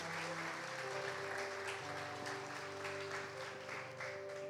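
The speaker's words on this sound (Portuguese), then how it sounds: "Vamos louvar a Deus com as palmas" A church congregation claps in praise during worship, with continuous clapping under sustained musical tones and keyboard notes, at moderate volume throughout.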